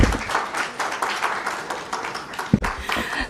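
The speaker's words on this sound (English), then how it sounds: "Another round of applause for the PS MSMEs." Audience applause fills a conference hall in Kenya, a dense, steady patter of many hands clapping that carries across the full three seconds at moderate volume, with one sharper clap standing out near the end.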